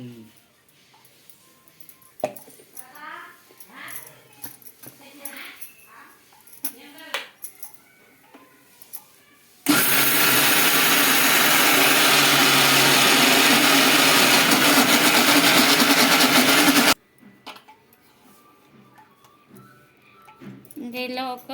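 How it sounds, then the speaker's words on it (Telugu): Mixer grinder whirring loudly as it grinds soaked rice into idli batter, a steady dense roar lasting several seconds, with talking before and after. "మిక్సీ పట్టింది"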